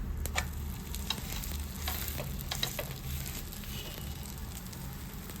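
Masala rava rotti cooking in oil on a pan, a soft continuous sizzle with scattered faint crackles and light scraping throughout, no talking.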